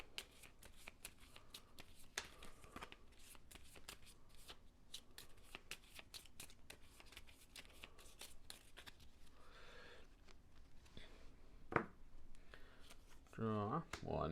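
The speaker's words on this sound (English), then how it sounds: "So we have to reshuffle." A deck of game cards is shuffled again and again, a steady run of close riffling flutters over about fourteen seconds, with a few louder bursts and faint background talk near the end.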